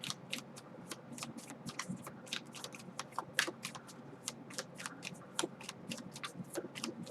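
A deck of tarot cards is shuffled by hand up close, giving a dense run of crisp, rapid riffling flicks and card slaps that keeps going with no pauses and no talking.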